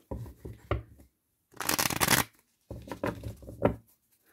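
A deck of tarot cards is shuffled up close during a card reading, the papery riffling coming in three bursts: a choppy patter, a dense continuous rush in the middle, then another stretch of quick flicks, with no voices.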